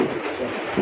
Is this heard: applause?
no